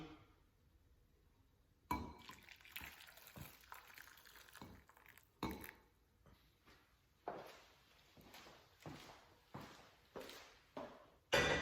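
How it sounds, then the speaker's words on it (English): Dashi pours in faint, intermittent splashes with soft clinks of utensils and dishes, quiet and close in a kitchen. "Then we're gonna pour some of the dashi."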